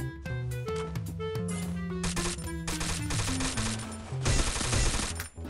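Rapid automatic gunfire from a shooter video game rattles in dense, continuous bursts, loud and close, layered with overlapping shots and game sounds, with no talk.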